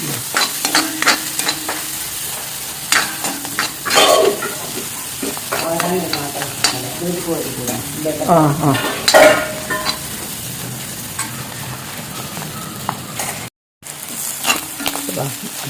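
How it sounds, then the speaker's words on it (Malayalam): Mussels frying and being stirred in a pan, a continuous loud sizzle broken by repeated scraping and clacking strokes of the spoon, close up. "നമ്മൾ ഈ കല്ലുമ്മക്കായൊക്കെ ഫ്രൈ ആക്കുന്ന സമയത്ത് കൂടുതൽ മുരിച്ചെടുക്കരുത്."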